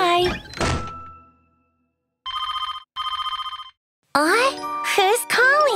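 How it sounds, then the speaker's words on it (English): A cartoon telephone rings in two bright, evenly pulsed bursts separated by a short gap, following a thump and preceding a child-like character's voice. "Who's calling? I don't know this number. I shouldn't answer it."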